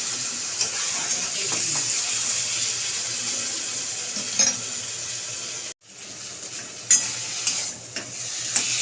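Taro leaves hit a hot pan and are stirred as they fry, giving a steady close hiss with scraping clinks, a brief dropout midway and a few sharper knocks near the end.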